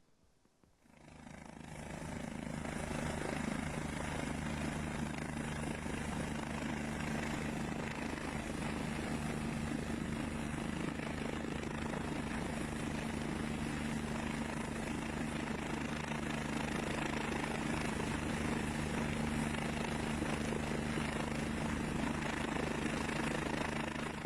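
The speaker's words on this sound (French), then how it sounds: "Les sauveteurs n'ont pas eu d'autre moyen que de l'évacuer en hélicoptère." A rescue helicopter evacuates an injured skier from steep mountain terrain, rising quickly from near silence into a steady rotor thump and engine whine with strong humming tones, sustained and fairly close throughout.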